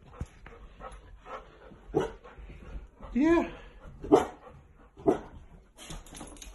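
A puppy yips, barks and whimpers in short bursts while people talk and exclaim excitedly nearby.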